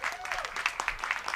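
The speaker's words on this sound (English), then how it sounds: "Let's give her a round of applause." A brief burst of audience clapping at a business brand summit welcomes a speaker, with a voice speaking over it near the start.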